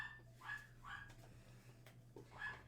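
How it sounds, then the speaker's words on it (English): Faint, distant dog barks and yips come in short, scattered bursts over a low background hum. "Again, I am sorry for the barking."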